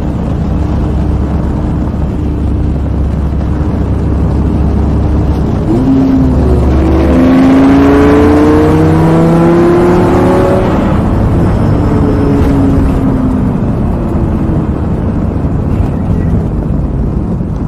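A Datsun 240Z accelerates at full throttle on a highway, its engine note climbing in pitch through rising sweeps beneath a constant loud wind and road roar.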